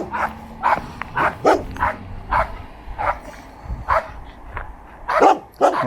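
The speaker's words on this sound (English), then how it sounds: "My God, these damn dogs." Several dogs bark loudly and repeatedly on a city street, with sharp yips and barks coming in an uneven rapid series.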